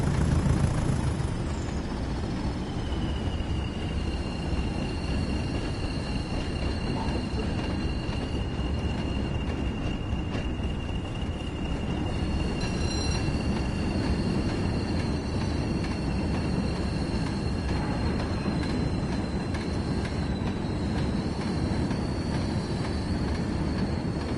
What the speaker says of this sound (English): I take it these trains were noisy as hell going across point work.